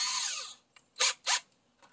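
A power drill spins in short bursts while a Phillips head bit is removed from its chuck during a Bimini top install: one longer whir that winds down, then two brief, close revs and a faint click.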